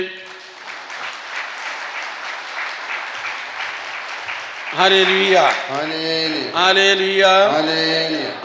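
An audience at a Catholic retreat claps together, sustained applause for several seconds, then a voice starts speaking over the tail of it.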